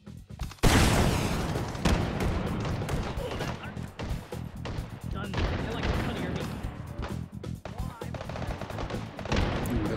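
Rocket launches and explosions in the VR game Hot Dogs, Horseshoes & Hand Grenades, a loud blast opening a string of booms and rapid gunfire bursts, with a player talking throughout.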